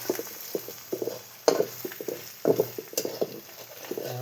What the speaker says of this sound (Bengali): এবার হলুদটা দিয়ে দিলি, ভালোভাবে এটা মিক্স করে নিব।